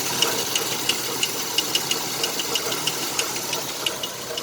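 Steady light tapping ticks repeat rapidly over the rough idle of a 1987 Chevrolet Celebrity Eurosport engine running rich, close by with no voices.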